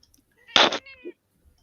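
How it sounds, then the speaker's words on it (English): A single close cat meow, short and bright, trails off into a softer second sound in an otherwise quiet room. "I did hear the meow."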